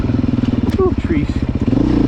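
A 2023 Beta dirt bike engine runs in second gear, a loud, close, rapid pulsing thrum that holds steady while a rider talks over it.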